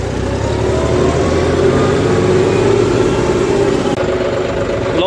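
A John Deere 5310 Gearpro tractor engine drones steadily while the tractor drives on a road, a loud continuous mid-pitched diesel hum with no talk.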